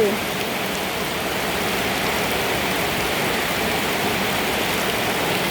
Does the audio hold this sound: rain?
yes